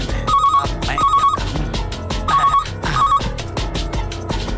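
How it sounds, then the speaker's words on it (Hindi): A telephone rings in a comedic office setting, its repeated electronic trills sounding in four bursts over busy background music with no speech. "फोन बज रहा है, लेकिन ये उठा नहीं रहे हैं।"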